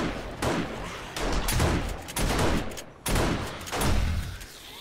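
Rapid bursts of video game gunfire with turret fire, loud and dense, coming in several waves separated by short gaps.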